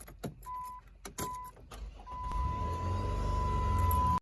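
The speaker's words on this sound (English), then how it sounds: "This is probably the most mechanical sounding car ever in our garage." A supercharged 707-horsepower van engine cranks and catches after a few clicks and whirs, then settles into a steady, rumbling idle with a faint high whine over it, heard up close.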